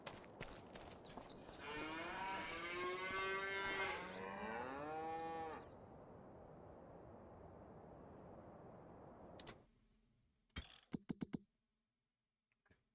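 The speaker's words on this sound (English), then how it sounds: "Keep eating, cows. Keep eating." Cattle moo in the Farming Simulator 25 video game, one long, loud, wavering low call followed by quieter farm ambience and a few sharp clicks near the end.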